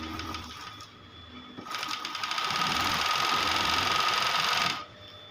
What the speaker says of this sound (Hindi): ये शिरूबा कंपनी की फ्लिट लॉक मशीन है और इसका मॉडल नंबर है C007J